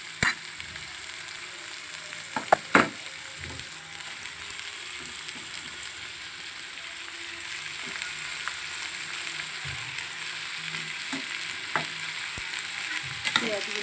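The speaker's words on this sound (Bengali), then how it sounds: "এবার আমি 2 থেকে 3 মিনিট ভেজে নেবো," Chicken fries with onions in a pan, a steady hissing sizzle with a few sharp spoon clinks early on, close and moderately quiet.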